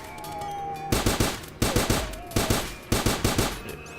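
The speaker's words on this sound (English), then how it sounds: "I think I'm going to use my machine gun on this black thing for fun." Machine gun fire in Starbound, several loud short bursts of rapid shots separated by brief pauses, close and dominant over faint game ambience.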